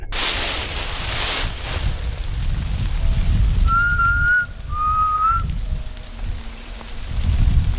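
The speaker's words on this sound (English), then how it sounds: "he decided to whistle, hoping to get some kind of response." Two drawn-out human whistled notes, one after the other, carry through a steady outdoor hiss like wind or rain in a dark forest at night, with muffled rustling before them.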